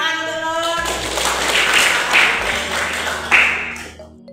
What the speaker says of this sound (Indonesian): Tepuk tangan untuk Nur.